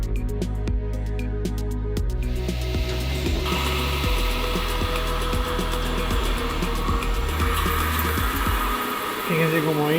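A metal lathe turns a workpiece in a machining class, giving a steady mechanical whir with a whining tone and scraping, rubbing cutting sounds, heard close and continuous.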